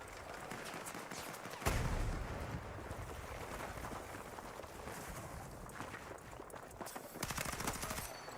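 Video game gunfire crackles in rapid bursts of automatic shots, opening with one sharper, louder report and then running on as a faint, distant patter.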